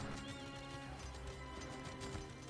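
Flaming Horse mount in Elder Scrolls Online: steady game hoofbeats clip-clop in a quick rhythm under faint ambient game sound and a soft neigh, with no talking.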